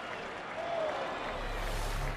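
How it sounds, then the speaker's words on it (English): A crowd at Kauffman Stadium cheers and applauds after a diving catch in a baseball game, a broad steady roar that holds for the whole stretch. A low rumble rises near the end. "listen to this Kauffman crowd"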